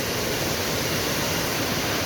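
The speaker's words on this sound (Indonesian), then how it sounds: "Dan ini air terjunnya," Waterfall at Coban Sumber 7, a steady, dense roar of falling water heard close up, unbroken and loud throughout with no voices.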